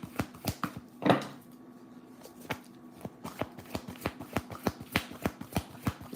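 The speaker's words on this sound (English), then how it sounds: "Look at every image you see as I'm shuffling these cards." Tarot cards being shuffled by hand in quick, crisp riffles and snaps, close and fairly quiet, repeating in a fast rhythm with no talk over them.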